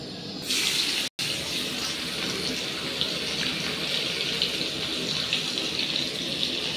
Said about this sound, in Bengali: তেলটা গরম হয়ে গেছে, কাটা কাটা পেঁয়াজগুলো দিয়ে দেবো প্রথমে